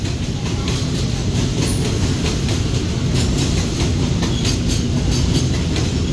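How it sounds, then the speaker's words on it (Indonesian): A long train rolls through a busy Jakarta station, giving a steady, loud rumble with rail clatter that holds evenly from start to finish. "Ini keretanya panjang banget."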